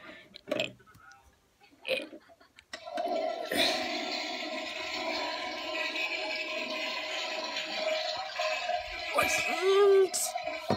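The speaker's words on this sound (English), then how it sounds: "Flush." Toilet flushing in a home bathroom just after a shower, a sustained loud rushing of water lasting several seconds, preceded by a few short bumps and ending with a brief gurgle.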